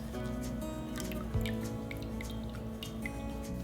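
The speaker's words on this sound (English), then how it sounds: "Next, squeeze out all the water from the mushrooms." Water dripping and trickling as soaked mushrooms are squeezed out by hand in a kitchen, faint close drips over a steady soft background of music.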